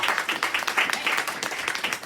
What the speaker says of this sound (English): give a big round of applause to our panelists and the creator of the film